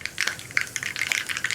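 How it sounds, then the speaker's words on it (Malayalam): Mustard seeds pop and crackle in hot coconut oil, a dense scatter of sharp little ticks and spits, close and fairly loud, with no voices. "അപ്പോൾ നമ്മുടെ കടുക് പൊട്ടി തുടങ്ങുന്നുണ്ട്"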